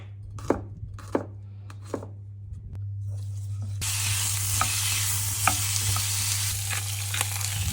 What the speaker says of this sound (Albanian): Holla gjalpin dhe do gridhe hudrat.